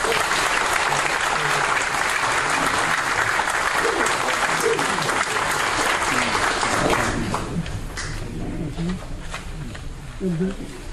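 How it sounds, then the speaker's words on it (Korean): A lecture audience gives sustained, loud applause for a speaker at a security talk; the clapping fades out after about seven seconds and quieter room noise and a voice follow. "박수 좀 보내주십시오"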